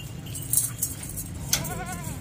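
A goat being loaded onto a cargo truck at a goat farm gives a short wavering bleat near the end, over low, steady vehicle rumble and handling noises.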